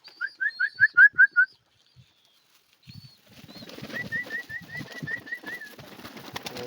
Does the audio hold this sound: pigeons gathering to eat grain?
yes